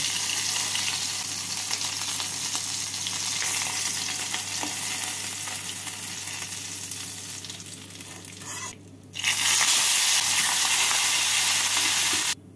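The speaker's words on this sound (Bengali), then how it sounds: "এইভাবে বাকি মাছ দুটোকেও ভেজে নেব।" Rohu fish pieces frying in oil give a continuous close crackling sizzle that briefly drops away before returning louder and steadier to the end.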